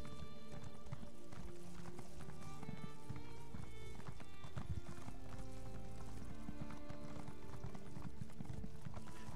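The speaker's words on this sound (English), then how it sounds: "Horses! The fastest way there." A horse ridden at speed in the video game Elder Scrolls Online makes a continuous clip-clop of hooves, loud and close, with a brief whinny and game music running underneath.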